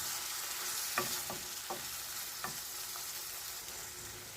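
Foli fish frying in a pan with water just added, a steady close hiss of sizzling broken by several sharp spatters and pops spaced across the stretch.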